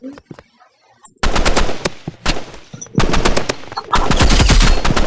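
Rapid automatic gunfire in the Roblox game Rivals, bursts of loud close shots starting after a quiet moment and continuing in dense volleys, with a brief pause before more sustained firing.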